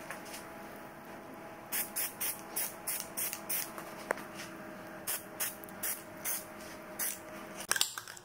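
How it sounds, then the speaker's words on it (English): Repeated short bursts of aerosol spray hissing in quick succession as rubber coating is sprayed over a Jeep Grand Cherokee emblem, a pause, then more bursts, with faint rustling and a clatter near the end. "and then I'll just spray it one more time just over the top."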